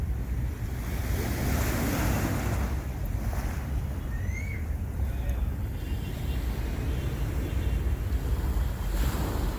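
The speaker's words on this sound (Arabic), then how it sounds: "هلا الميه تطلع علينا دلوقتي." Sea waves break along the Alexandria shore with a continuous, loud surf roar. Gusting wind buffets the microphone throughout.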